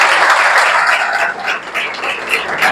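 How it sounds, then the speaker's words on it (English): A big round of applause from an audience welcoming a student: dense, continuous clapping, fairly loud and close, with no talk over it. "let's welcome her with a big round of applause"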